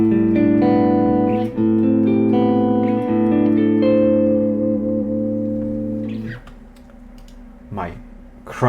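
Clean electric guitar tone played through a Kemper profiling amp: sustained chords ring loud and close for about six seconds, then fade into a few softer, sparser picked notes.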